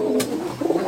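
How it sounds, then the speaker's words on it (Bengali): High flyer pigeons, pairs of MA3 and Nil Dumba birds, coo in short, close throaty bursts, broken by a quick rustle partway through. "তার হলো এক পেয়ার হলো MA3, এক পেয়ার হলো নীলদুম্বা কবুতর"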